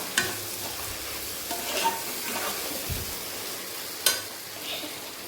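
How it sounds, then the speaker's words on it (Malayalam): Liver roast fries in coconut oil in a pan, a steady soft sizzle broken by occasional stirring scrapes and light clinks of a utensil against the pan. "കുറച്ചുകൂടെ ഒന്ന് പൊരിയാൻ വേണ്ടിയിട്ട് കുറച്ച് എണ്ണ ഒഴിച്ചു കൊടുക്കാം വെളിച്ചെണ്ണയാണേ"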